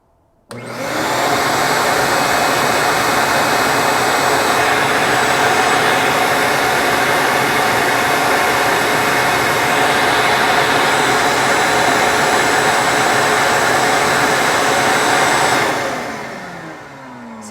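A regular household vacuum cleaner, measured against a dust collection setup with a decibel meter, switches on with a loud, steady whine and roar that holds constant for about fifteen seconds before winding down.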